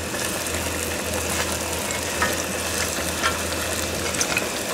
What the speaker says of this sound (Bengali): আমি এখন পেঁয়াজ দিচ্ছি